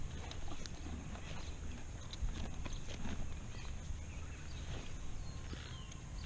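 A horse's hooves clip-clop in a rapid, continuous patter over loud outdoor noise, with no talking.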